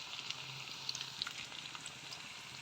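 Broiler chicken pieces fry in hot oil with turmeric, a steady, fairly quiet hiss of sizzling with faint crackles and no talk.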